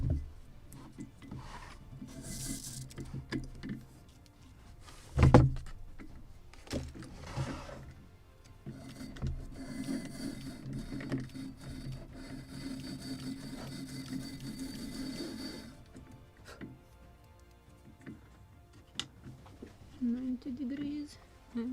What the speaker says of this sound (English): so I will use again my sander